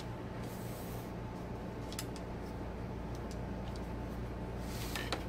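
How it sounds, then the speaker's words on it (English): Bursts of spray mist onto costume material for a Medusa costume, a few short hissing puffs over a steady background hum, fairly faint and close. "I'm gonna spray a little bit more down here."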